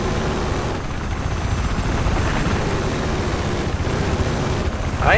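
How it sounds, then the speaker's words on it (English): A loud, continuous helicopter drone in Battlefield 4 with rhythmic rotor thumping and engine roar, close and steady throughout. "I am going to try to land this helicopter on that dome."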